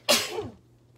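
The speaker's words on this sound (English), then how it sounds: "I think I'm gonna sneeze" A single sharp sneeze bursts out close up, loud at first and trailing off quickly into a quiet room, with no speech alongside.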